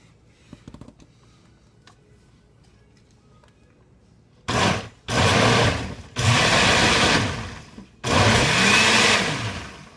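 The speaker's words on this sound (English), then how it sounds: "Let's give it a blend." A blender pureeing avocado for salsa runs in four loud, close bursts of high whirring, each a couple of seconds long, after a quiet start with a few faint knocks.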